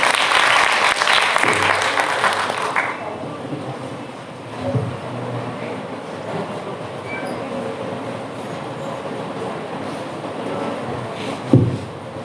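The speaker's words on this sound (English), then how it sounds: "Please give her a huge round of applause." Audience applause for the chief guest at a college annual function of an English department in Bareilly, a loud burst of clapping for the first few seconds that fades into quieter crowd murmur and hall noise.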